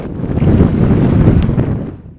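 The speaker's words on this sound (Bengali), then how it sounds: "মোংলা উপকূলে দমকা হাওয়ার সাথে গুড়িগুড়ি বৃষ্টি হচ্ছে" Gusty wind on the Mongla coast during a storm with light drizzle, a loud, rough rumble buffeting the microphone for about two seconds before easing off, with no voices.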